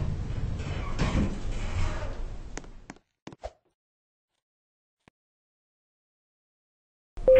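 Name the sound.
lift doors closing in Roblox video game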